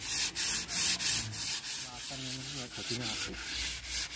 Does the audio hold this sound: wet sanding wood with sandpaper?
yes